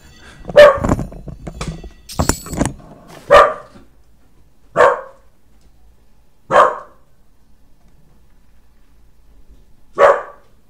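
Roxy, a pet dog, barks in a room, with a quick cluster of barks at first, then single sharp barks spaced a second or more apart with silence between.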